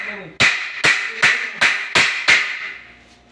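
Six sharp, evenly spaced hammer blows tapping floor tiles into place, each a crisp close strike with a short ringing decay.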